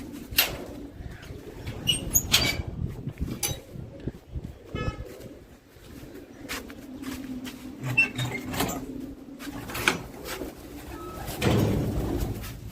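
Homing pigeons released for a first day of flying beat their wings in loud flapping bursts and coo softly in between, close by in the open air.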